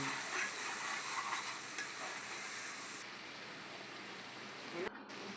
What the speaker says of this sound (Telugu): అల్లం వెల్లుల్లి paste one and half spoon వేసేసుకున్నాం ఇది నూనె పైకి తేలేంత వరకు వేయించుకుందామండి